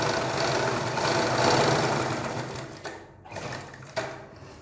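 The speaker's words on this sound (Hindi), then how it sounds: "तो चलिए हम पूरे गले में इस पर सिलाई लगा लेते हैं इसी तरीके से।" A domestic sewing machine stitches around the neckline of a garment, a close continuous motor whir with rapid needle clatter that slows, pauses briefly, then restarts in short bursts, with no voices.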